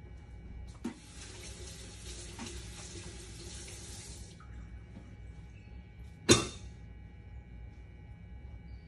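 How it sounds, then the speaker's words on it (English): Water runs steadily from a kitchen tap as hands are washed while making banana pudding, a broad hiss lasting about four seconds before stopping, followed by a single sharp clatter near the end. "I'll wash my hands"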